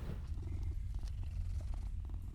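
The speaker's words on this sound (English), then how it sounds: "You can, however, pet the cat." A cat purrs steadily when petted in the video game Mortal Shell, a continuous low rumbling purr heard close and alone throughout.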